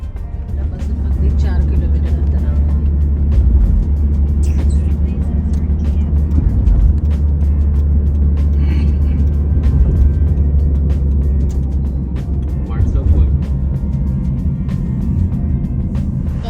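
A Honda City car engine hums steadily from inside the vehicle as it drives along, with road rumble and people talking over it throughout.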